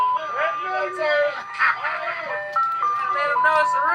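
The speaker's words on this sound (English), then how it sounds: "Let him know it's a real ice cream truck going on." Ice cream truck chime melody playing loud and close on a Detroit street, the tinkly tune running steadily throughout with voices talking over it.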